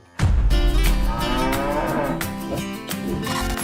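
Cattle moo loudly and close by at a traditional pre-Ramadan slaughter gathering in Indonesia, one long, harmonically rich bellow sustained over several seconds after a brief quiet start.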